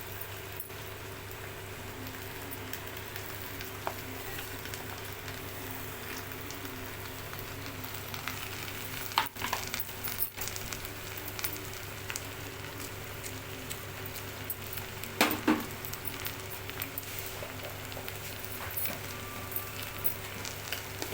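Cut okra pieces added to a pan with browned onion for an okra tomato curry, frying with a low, continuous sizzle and occasional clatters and knocks of stirring.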